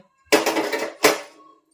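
Two loud metallic clatters of kitchen utensils being handled, the first a longer rattling burst, the second a short clang, with quiet before and after.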